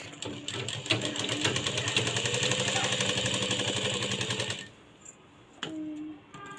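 An electric sewing machine stitches fabric for a decorative latkan with a fast, even mechanical chatter that runs loud and close for several seconds, then stops, leaving only brief handling noises.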